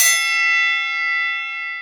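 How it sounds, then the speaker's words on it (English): A bell sound effect gives one bright metallic ding that rings out and slowly decays, close and loud, alone with no voices. "Somebody ring the bell. We should have a bell ring."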